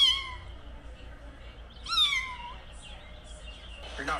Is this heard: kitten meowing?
yes